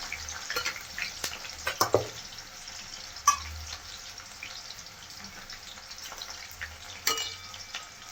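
Chopped onion and half a spoon of cumin fry in a hot pan, a steady close sizzle broken by a few sharp clinks and scrapes of stirring.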